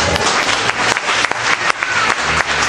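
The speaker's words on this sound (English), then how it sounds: "Clap for Jesus." A church worship congregation claps enthusiastically, dense and steady, with a few louder individual claps standing out.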